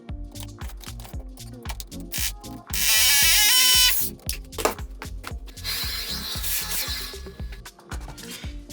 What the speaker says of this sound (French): Donc là, j'utilise la visseuse à choc, une douille de 13.